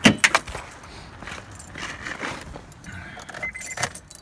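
Keys for a 2001–2005 Honda Civic jangle close by in quick metallic bursts, loudest at the start and again near the end, with faint handling noises between.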